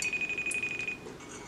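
A phone call rings out unanswered, a steady electronic ringback tone repeating faintly in a quiet room with no talking.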